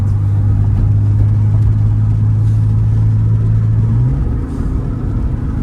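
A Porsche 911 with a Tiptronic six-speed automatic drives uphill, its engine a loud, steady low drone with a sustained hum that climbs in pitch near the end as the revs rise, heard from inside the car with no talking.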